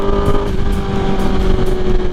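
A Kawasaki ZX10R superbike engine drones steadily on a Sunday morning group ride around Delhi, with a loud continuous hum and wind rush throughout and no talking.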